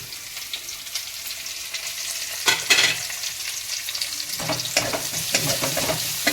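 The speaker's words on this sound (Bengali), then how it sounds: "এটা আস্তে আস্তে ভাজা হোক" Garlic and onion sizzling and frying in a hot pan, with occasional scraping stirs and clinks of a utensil, close by and steady.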